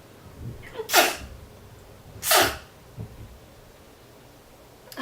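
Two sharp sneezes, close and loud, about a second apart, with quiet breathing and rustling around them.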